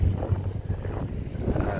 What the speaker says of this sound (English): Of course, the wind's picking up.